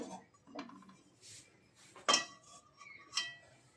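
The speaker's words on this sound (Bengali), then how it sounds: "কড়াইয়ের ভিতরে একটা স্ট্যান্ড দিয়েছি।" A metal stand clinks into a wok (kadai) in a kitchen, giving a few quiet, sharp metallic taps and rattles with soft shuffling between them.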